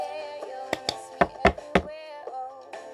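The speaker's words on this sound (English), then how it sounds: "tap the cup three times like this" A cup is tapped on a table for the cup song: several sharp, close knocks in quick succession, heard over faint background music.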